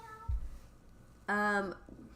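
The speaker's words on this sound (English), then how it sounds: "And that is Mr. Kitty Cat" A domestic cat gives a single short, rising meow, quiet and close in a calm indoor room, after a soft thump.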